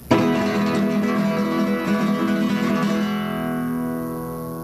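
A flamenco guitar strumming pattern of thumb and finger strokes played up to speed, a dense, continuous run of close, ringing strums that sustains and slowly fades at the end.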